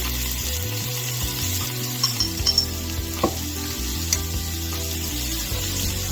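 Burger patties sizzle in a pan alongside garlic, a steady close frying hiss with occasional faint pops and stirring clinks, and no voices.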